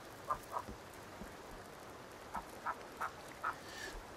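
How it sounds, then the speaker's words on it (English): A frog in the survival game Sons of the Forest croaks faintly in a few short, separate chirps, first two and then four in a row, over a quiet hiss that sounds like rain. "That's a frog."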